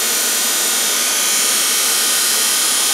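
A modified electric motor spins a fan at around 2,000 RPM, giving a steady, loud whooshing whir with a fine high-pitched hum, unchanging throughout.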